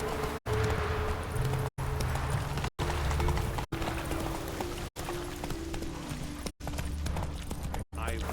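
Roach, a horse in The Witcher 3: Wild Hunt, trotting with steady clip-clop hoofbeats over continuous ambient game sound, broken by brief silent cuts and accompanied by speech.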